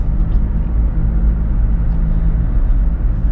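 A 2008 Toyota Prius Grand Touring drives along, with a steady low road rumble and drone holding even and close throughout, with no talking.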